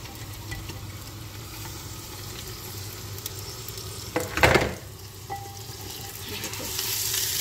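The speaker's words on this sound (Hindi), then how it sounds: "गोश्त को डाल के हमने इसको अच्छी तरह से हिला लेना है। थोड़ी देर गोश्त को प्याज के साथ हमने पकाना है" About 1.5 kg of mutton fries with onions in a pot for Chinioti kunna, giving a steady low sizzle with a brief louder scrape of stirring midway.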